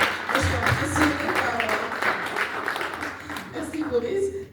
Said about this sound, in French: on va applaudir parce que vraiment, moi, je suis impressionnée